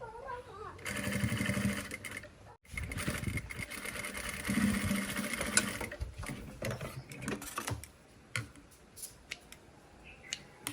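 A sewing machine stitches a gown with rapid mechanical whirring and clicking in bursts, heard close under ongoing talk before tapering into scattered clicks.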